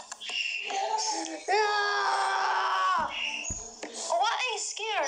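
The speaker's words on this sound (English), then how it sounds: "Why are you screaming?" A person screams loudly in long, shrill bursts mixed with excited voices and shrieks, close and unbroken for several seconds.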